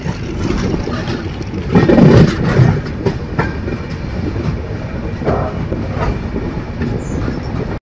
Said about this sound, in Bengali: ফাইনালি ট্রেন আসলো শিলিগুড়ি জাংশন